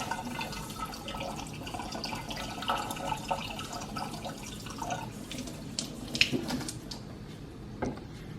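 Tap water runs into a pot in a home kitchen for herbal tea, a steady soft splashing stream with a few clinks and drips near the end.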